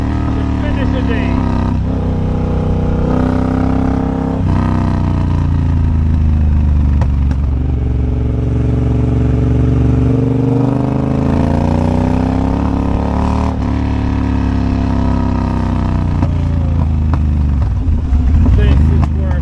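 A motorcycle engine runs steadily and loudly close by during a ride, holding a sustained drone with a few shifts in pitch as it revs and eases off.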